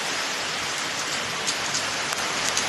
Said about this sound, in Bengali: এই দেখো বৃষ্টি হচ্ছে